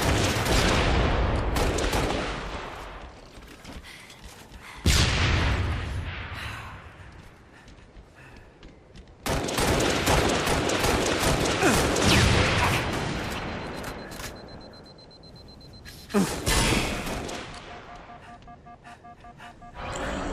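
Bursts of gunfire and blasts from rocket explosions in an arena shooter game, coming in loud waves with quieter gaps between the volleys.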